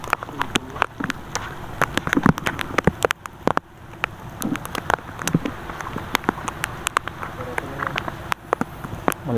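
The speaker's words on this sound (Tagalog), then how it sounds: "Ulan na, ulan." Rain falling outdoors at a fishing spot, a steady patter with sharp close drops spattering on a surface, heard alongside scattered background voices.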